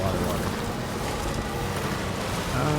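A river flows in Death Stranding 2, with steady broadband rushing water and wind-like noise, loud and continuous throughout with no break.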